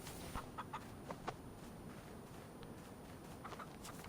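A chicken in the video game DayZ gives several soft, scattered clucks over quiet ambient game noise, faint and somewhat distant.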